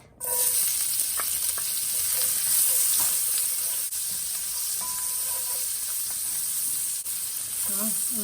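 Shallots sizzle and fry steadily in rendered bacon fat for home-cooked country fried cabbage, a dense continuous hiss with occasional pops and faint utensil clinks, close and fairly loud throughout.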